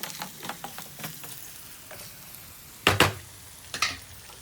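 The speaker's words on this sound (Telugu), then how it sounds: "ఇలా వేసి కూడా ఒక 10 మినిట్స్ మనం వేయించుకుంటే అన్నీ సరిపడా కర్రీకి అనేవి పడతాయి" Prawns frying in a pan for a curry, with a low steady sizzle, light scraping stirs, and two louder clattering stirs near the end; no voices.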